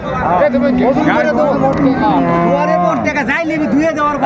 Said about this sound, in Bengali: এখানে যে গাভী বাসু গরুগুলো দেখছেন বেলাল ভাই